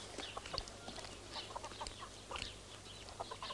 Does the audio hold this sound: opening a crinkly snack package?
no